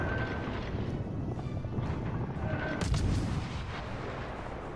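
Naval guns fire in World of Warships Legends, one deep booming salvo rising out of a constant low rumble of engine and sea noise.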